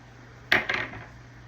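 Frozen garlic pucks hit a metal cooking pan, a sharp clatter followed by a second smaller knock, close and alone in a quiet kitchen.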